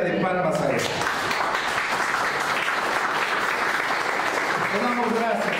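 A congregation gives loud, sustained applause as an offering of praise to God during a Spanish-language church service, with voices rising over the clapping near the start and end.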